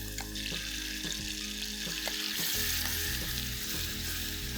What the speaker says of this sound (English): Once the oil heats up, I'm going to add in the paste.